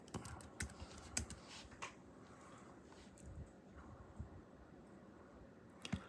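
Quiet typing on a computer keyboard, a run of soft key clicks with a few sharper taps at the start and end, close by and heard alone.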